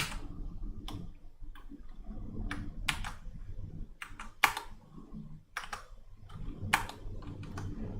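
Scattered keystrokes on a computer keyboard click close by in irregular short bursts and pauses over a low room hum, no speech.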